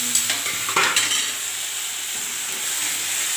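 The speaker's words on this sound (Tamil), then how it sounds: "வெங்காயம் தக்காளி நல்லா போட்டு வதக்கிக்கலாம்" Onions and tomatoes sauté in oil with mustard seeds and crushed ginger-garlic, a steady close sizzle opening with a few stirring clinks and scrapes before settling into an even hiss.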